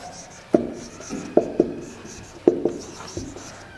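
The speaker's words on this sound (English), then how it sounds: "So I am going to write the definition of the constitution." A pen moves across paper as the definition of constitution is written out by hand, a close scratchy stroke sound with sharp taps where strokes start, continuing steadily throughout.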